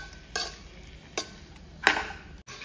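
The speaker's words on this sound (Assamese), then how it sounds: "আৰু এতিয়া এইখিনি ধুনীয়াকৈ অকণমান তেল ওলোৱাকৈ মানে তেলটো বাৰু নোলায় তথাপিতো অকণমান ড্ৰাই হোৱাকৈ ভাজি লৈছোঁ" Three brief scraping stirs of chicken with ginger and garlic frying in a pan, evenly spaced, fairly quiet over a soft background hiss.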